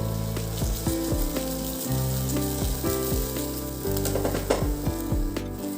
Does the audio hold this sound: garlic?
yes